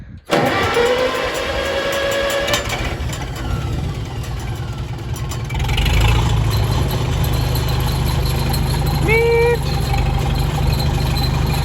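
A W4 engine runs steadily after its throttle is opened, a loud continuous low rumble that swells slightly partway through, with a brief faint whine near the end and no talk over it.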